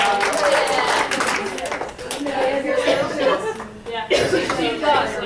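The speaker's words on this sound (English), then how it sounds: "Everybody clap for themselves." A workout seminar group claps for themselves after a jumping exercise, a short burst of scattered hand claps mixed with chuckles and chatter, with voices talking throughout.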